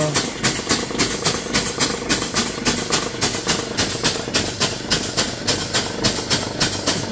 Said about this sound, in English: The engine's going so slow, it's about 1700 RPM.